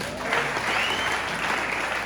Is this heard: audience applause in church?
yes